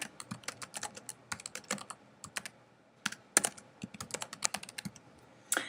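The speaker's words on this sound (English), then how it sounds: "So again, I would type my words in here." Keys clacking on a computer keyboard while words are entered into a lesson template on a PC, a quick irregular run of crisp close taps with short pauses between bursts.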